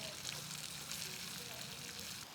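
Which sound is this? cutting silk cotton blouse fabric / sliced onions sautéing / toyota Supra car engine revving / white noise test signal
sliced onions sautéing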